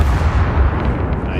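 Ship cannons firing in the naval video game Caribbean Legend: a loud, dense rumble of overlapping booms that rolls on without a break.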